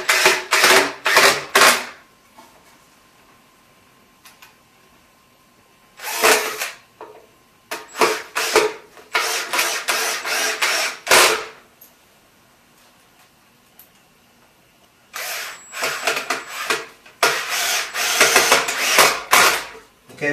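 Power drill driving screws through a 2x4 into a 2x6 board: several loud, close bursts of whirring and grinding, each lasting a second or two, separated by quiet pauses.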